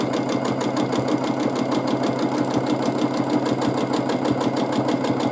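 A sewing machine stitches steadily with a fast, even mechanical chatter while a baby quilt is free-motion quilted with a ruler. The motor whirs near and constant, and no one speaks.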